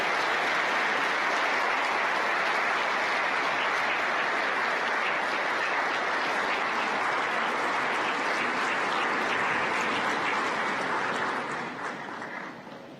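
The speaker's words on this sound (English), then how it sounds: "a round of applause as His Excellency departs" Audience applause at the Mobile World Congress opening ceremony in Kigali, a dense, sustained wash of clapping from a large crowd that holds steady before tapering off near the end.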